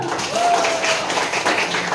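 Children in an elementary Islamic lesson on belief in angels clap together in a classroom, giving a steady, dense patter that fills the whole moment with no voices over it.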